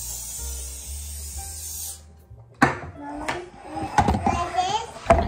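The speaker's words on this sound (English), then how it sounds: "So I'm just going to spray it with some of this." Cooking spray hisses in a steady, close burst onto a muffin tin for about two seconds, followed by clattering handling sounds and someone talking.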